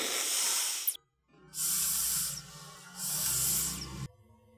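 Breath blown hard through a straw across an upright pen tube standing in a glass of water, spraying it. Two long, loud hissing bursts are separated by short pauses and heard alone.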